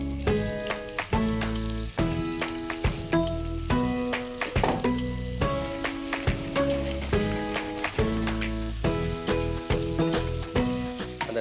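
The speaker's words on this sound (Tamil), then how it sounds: "நல்லா பழுத்த தக்காளியாக ஒன்று சேர்த்துக்கிறோம். இதை லைட்டாக வதக்கிட்டு இதில் நண்டு சேர்த்துக்கலாம்." Crab sautéing with ripe tomato in a pan, giving a steady sizzle and occasional stirring under loud, prominent background music.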